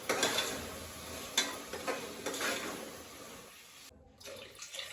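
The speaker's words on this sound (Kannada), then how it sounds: "ನೀರು ಹಾಕ್ತಾ ಇದ್ದೀನಿ ಗೈಸ್." Water is poured into a pot of rice for mushroom biryani, an uneven splashing and gurgling with scraping stirs, faint and close, with no talking.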